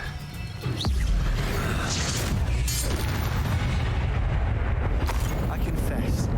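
An Incendio fire spell cast in Hogwarts Legacy erupts in a loud, roaring burst that sustains as a dense, crackling rumble, with battle noise and voices mixed in.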